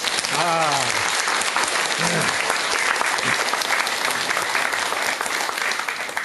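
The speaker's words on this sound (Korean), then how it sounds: "박수 한번 주세요" An audience at a Buddhist Seon dharma talk applauds, continuous clapping for several seconds with a brief voice rising over it near the start.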